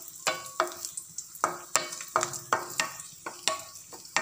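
Raisins fry in a pan for rava payasam (sooji kheer). A close, steady sizzle is broken by about a dozen regular stirring scrapes and clinks against the pan.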